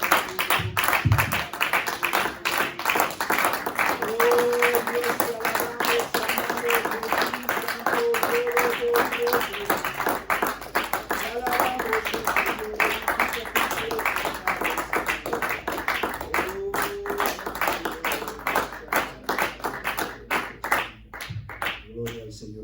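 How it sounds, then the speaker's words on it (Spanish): A church congregation claps rhythmically and steadily through a Spanish-language worship service, with a voice praising over the clapping and soft organ or keyboard tones underneath. "Dale un fuerte aplauso al Señor y alábale al Señor."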